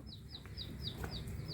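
Chickens with young chicks at a rural Thai home, heard as soft clucking and cheeping over a steady murmur, with high chirps repeating at a regular pace throughout.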